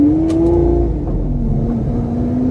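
A 2012 Lamborghini Aventador LP-700 V12 runs loud and close on the road, a steady deep engine drone whose pitch rises slightly then settles, with no talking.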